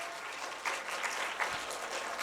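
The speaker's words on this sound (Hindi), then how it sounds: "उनके लिए भी जोरदार तालियां" An audience at a school Children's Day celebration applauds the children's performances with a steady, full wash of clapping that continues throughout.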